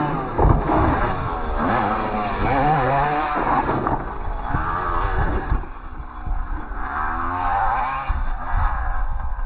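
An HPI Savage GT6 nitro RC monster truck engine runs continuously at close range, its buzzing whine rising and falling through the clip with no voices over it.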